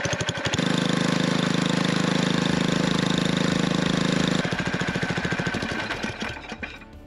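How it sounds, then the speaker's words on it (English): A Coleman BT200X mini bike's small engine runs steadily and loudly, close by, with a constant droning hum that stays short of full revs, then eases and sputters unevenly toward the end. "First, I'm gonna run the bike and you'll see that it doesn't really reach full RPMs and the pulleys don't move."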